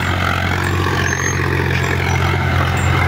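A Sonalika 745 tractor engine runs steadily and loudly up close, a constant low diesel drone with a strong low hum and no break.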